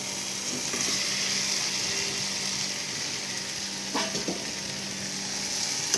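Fried potatoes and pointed gourd hit hot oil and masala in a pan, producing a continuous close sizzle with a couple of sharp spatula clinks and stirring sounds partway through.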